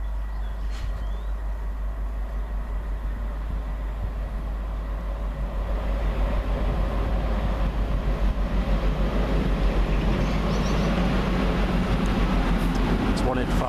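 Train running at Liverpool Lime Street station, a steady low rumble that grows louder partway through, with a voice talking over it.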